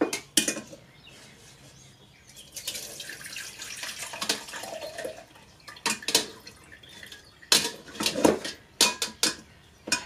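Water drains through a strainer as soaked, finely chopped sun-dried tomatoes are strained in a home kitchen, with splashing pours, drips and a few clattering dish and utensil knocks, close by and without talk.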